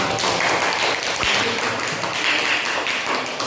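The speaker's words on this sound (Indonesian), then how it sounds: "coba berikan tepuk tangan untuk kelompok" A classroom group claps in dense, steady applause at close range, continuing throughout.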